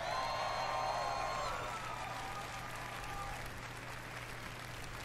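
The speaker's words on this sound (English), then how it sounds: "Can I get another round of applause, please?" An audience at Bethesda's E3 2018 press conference applauds with scattered cheers, a dense burst of clapping that gradually eases and thins out over a few seconds.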